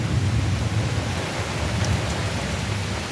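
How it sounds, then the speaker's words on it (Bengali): Steady, dense rain falls with wind, a continuous close hiss over a low rumbling of thunder, with no voices. "দেখো বৃষ্টি হচ্ছে আর দেখো হাওয়াও ছেড়েছে আর মেঘ তো প্রচুর পরিমাণে মেঘ ডাকছে দেখো"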